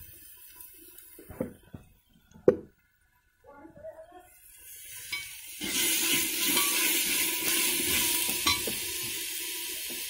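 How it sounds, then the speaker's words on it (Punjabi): Spices roasting and being stirred in a frying pan, a loud steady sizzle with scraping strokes taking over after a few seconds of quieter clatter, on a rural Punjab home kitchen stove. "ਥੋੜ੍ਹਾ ਟਾਈਮ ਆਪਾਂ ਮਸਾਲੇ ਨੂੰ ਇੱਦਾਂ ਹੀ ਭੁੰਨ ਲਵਾਂਗੇ।"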